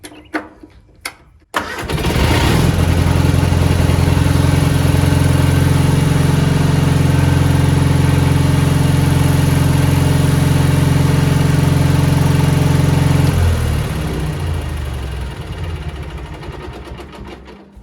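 A 1987 Gravely mower engine cranks and catches after a brief clatter, then runs at a loud, steady idle for about eleven seconds before winding down, heard up close with no voices.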